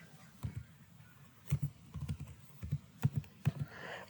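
Typing on a computer keyboard: soft, irregular clusters of key clicks, fairly quiet and close, with no talking.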